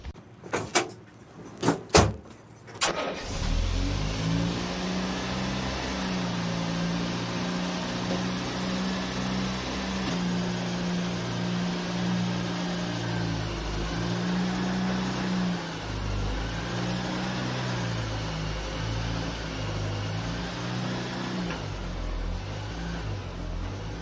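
A rebuilt Land Rover Series 3 with a new engine and gearbox runs under its own power, its steady low idle and drive rumble continuous and fairly close after a few sharp door or body knocks at the start.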